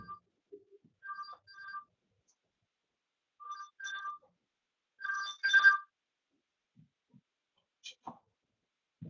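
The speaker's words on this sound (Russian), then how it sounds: "Megszólalt a telefon, egy perc." A telephone rings in short electronic bursts, several separate trills spread across a quiet room and heard clearly at moderate volume, with no speech over them.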